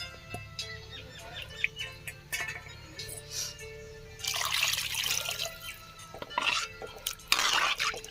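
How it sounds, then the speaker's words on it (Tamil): Chettinad fish curry with ground coconut stirred in a pot, scattered clinks and scrapes of a spoon against metal, then wetter, louder sloshing bursts of stirring toward the end, no talking. "நல்லா கிண்டி கொடுத்துக்கோங்க"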